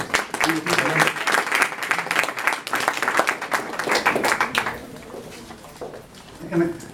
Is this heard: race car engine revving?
no